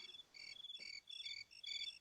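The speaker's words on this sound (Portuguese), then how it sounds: "Esse tem grilo. Tem grilo." Crickets chirp in a recording of a Brazilian moda de viola song, giving quick, evenly repeated high trills in short bursts over a quiet, faintly hissing background.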